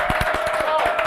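A live studio audience at a pub gathering claps in a quick, close burst of about eight to ten distinct hand claps, with a faint steady tone running underneath.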